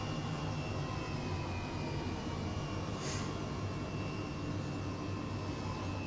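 Airbus H135 helicopter in Microsoft Flight Simulator 2020 at London City, its engine a steady, loud whine-and-rumble drone held at constant level throughout, with no talk over it.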